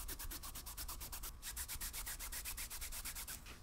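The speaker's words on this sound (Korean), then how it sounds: "이렇게 부드럽게 문질러주면 이 바느질도 안착이 되고 가죽도 광택이 올라옵니다" Leather surface of a DIY leather keychain being rubbed smooth to polish it and set the stitching, making a steady series of quick, rhythmic rubbing strokes, close and fairly loud with no talk.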